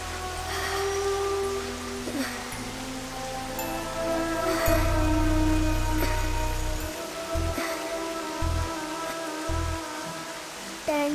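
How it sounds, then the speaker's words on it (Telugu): Steady rain falls throughout, a continuous even patter with tonal background sounds layered over it and no break in the downpour. "వర్షం చాలా చల్లగా ఉంది కదా."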